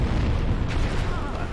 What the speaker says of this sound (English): And I was still inside explosion range then.